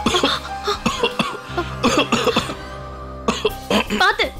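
A person coughing repeatedly in harsh, throaty bursts up close, mixed with throat clearing and talk.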